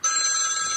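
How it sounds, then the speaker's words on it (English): An old-phone-style ringtone on an HTC Trophy phone, a loud, continuous electronic bell trill that rings steadily throughout, alone without talk. "Old phone."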